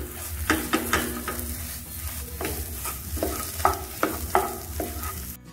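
Potato stuffing with salt and dry mango powder stirred in a kadhai, giving an even frying hiss broken by irregular scraping strokes of a spoon against the metal, close up and alone.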